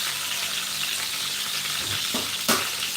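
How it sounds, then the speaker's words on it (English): Chicken stir-fries in a pan with garlic and ginger, giving off a steady, close sizzle and crackle, with a couple of short scraping stirs near the end. "stir frying them first in garlic and ginger"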